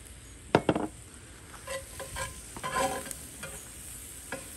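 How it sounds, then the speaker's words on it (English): Jalapeños seasoned with white pepper sauté in a pan for bourbon beer bratwurst, with a soft steady sizzle broken by a few sharp scraping stirs near the start and lighter stirring strokes later. "So I'm just gonna saute these up"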